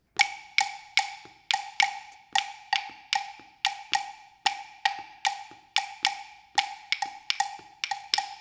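Sharp wooden clicks repeating in a syncopated two-bar son clave pattern, three strikes then two, looping steadily and played alone.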